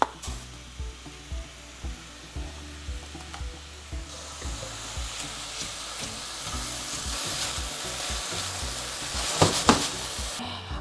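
Ground turkey frying in coconut oil in a pan, a continuous sizzle with regular clacking stirs or taps at first, then a denser crackle building louder near the end, no voices.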